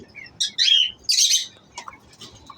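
Lovebirds in a breeding colony give loud, shrill calls in two harsh bursts, followed by softer chirps against quiet background noise.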